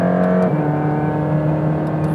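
A Mercedes-AMG GT Black Series engine, a steady, close, loud tonal drone with a slight pitch drop early on, held continuously without any talk.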